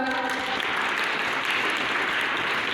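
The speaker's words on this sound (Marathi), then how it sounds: "वाजवा याच्याकडचं टाळ्या" An audience at a talk on vegetables and health claps together in a dense, continuous round of applause, loud and close, lasting the whole stretch without speech.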